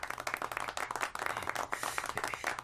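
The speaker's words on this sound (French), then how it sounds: "Applaudissez votre camarade." Classmates in the video game Les choix de l'amour applaud a fellow student after a lesson, a dense, steady burst of many hands clapping close by with almost no talk.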